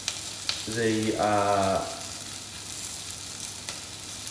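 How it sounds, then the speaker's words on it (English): Chopped onion frying in a hot pan for a vegetable curry gives a steady, soft sizzle, and a person speaks briefly over it. "I'm now just frying my onion."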